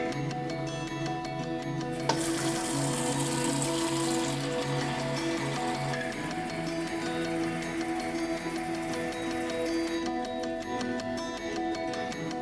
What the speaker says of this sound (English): using running water from the tap, we will fill the larger chamber up to the max symbol on the tank